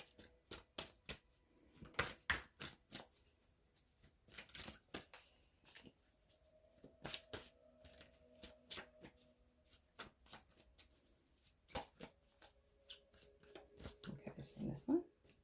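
A deck of Secret Language of Color oracle cards being shuffled, with crisp riffling snaps and clicks in uneven bursts throughout and faint tones underneath.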